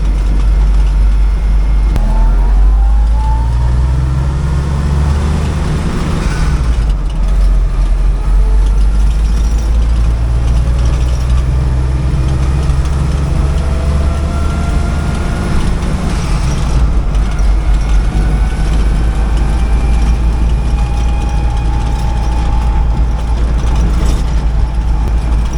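A 1956 Willys CJ5 with a newly installed engine pulls in third gear, a loud steady engine drone with rising pitch and mechanical rattles over continuous road rumble.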